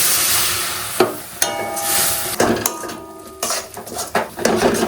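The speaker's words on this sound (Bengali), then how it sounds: "জল দিয়ে বেসন আর ফুল আর মশলা একসঙ্গে একটু মিশিয়ে নেব" Gram flour batter with drumstick flowers and spices being stirred in a metal pan, with repeated scraping clinks of a spoon against the pan and a light sizzle between strokes.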